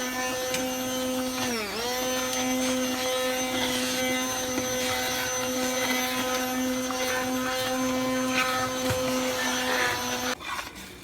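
A kitchen blender liquefies boiled dasheen, spinach and okra with a steady high motor whine, dipping briefly as the load shifts, then running evenly before cutting off near the end.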